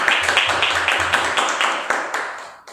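Congregation at a Sunday evening church service claps together in thanks to God, a run of brisk, rhythmic hand claps that loosens into scattered applause and fades out near the end.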